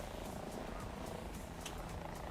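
Helicopter in War Thunder, a steady close rotor and engine drone filling the whole moment with no break, its even rumble running alone without talk over it.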